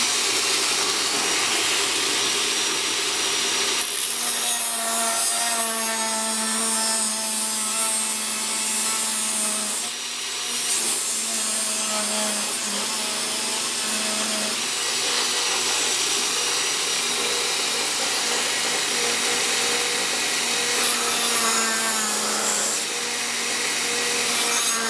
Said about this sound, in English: Handy dandy Dremel.